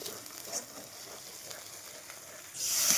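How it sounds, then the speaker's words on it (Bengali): Onions frying in a pan with ginger-garlic and chili paste for a dry chicken kosha give off a steady, soft sizzle that swells into a louder, brighter hiss near the end, with no talking. "এখন পেঁয়াজটা ভাজা হচ্ছে"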